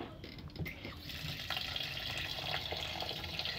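Tap water runs steadily into rice being washed by a child in a kitchen, a continuous splashing stream with small drips and shifts as the grains are rinsed.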